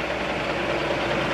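A Volvo 780 series tractor truck engine idles with a steady, close diesel rumble and an even low throb, holding constant throughout.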